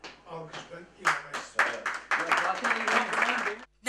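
Clapping and applause from a group mixed with a voice speaking over it, fairly close and lively, ending abruptly.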